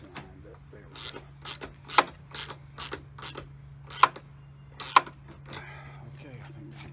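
A ratchet strap or ratchet tool is wound up while a cargo camper canopy is being fitted, giving a series of sharp, irregular clicks, some louder than others, over a faint steady hum.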